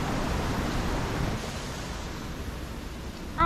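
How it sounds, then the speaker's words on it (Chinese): Water rushing steadily down a small forest waterfall, a continuous broadband roar holding even throughout, with a brief faint sound near the end. "还有瀑布啊！"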